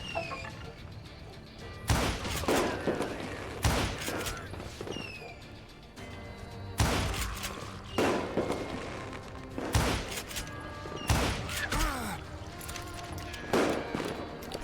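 Gunfire in the Call of Juarez: Gunslinger video game: repeated loud bursts of shots and crashing impacts in irregular clusters every couple of seconds over a steady game background.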